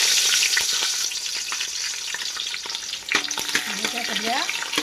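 Onion and four or five green chillies fry in hot oil with a loud, steady sizzle, broken by stirring and scraping in the pan toward the end.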